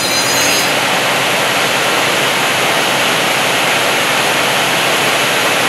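A 2005 Mori Seiki NL 2500 CNC lathe with a 1250mm bed spins its spindle up toward 4,000 RPM, a steady, loud, dense whirring roar that holds constant throughout with no voices.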